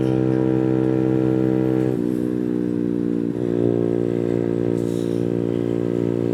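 A Boom Vader 125 Honda Grom clone motorcycle with a new exhaust, held at full throttle around 8,000 RPM, drones loud and steady with a strong harmonic engine note, briefly dipping twice before holding the high pitch.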